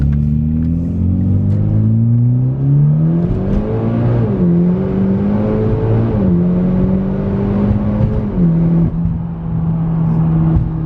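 A Mitsubishi Evo X MR with a turbocharged engine and straight-piped exhaust revs loudly up close, its droning tone rising and falling through several throttle blips with no talk over it.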